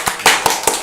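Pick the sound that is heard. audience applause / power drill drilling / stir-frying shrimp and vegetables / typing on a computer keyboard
audience applause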